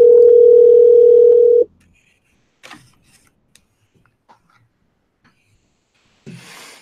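A steady phone line tone sounds after a call ends, holding loud and even for under two seconds before cutting off abruptly, followed by quiet with faint handling rustles and a short burst of noise.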